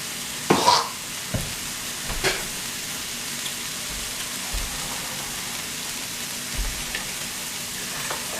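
Vegetables sizzle in a pan as they are stirred: a steady background hiss of frying broken by several scraping, clattering stirs of a utensil against the pan, close up, with no talking.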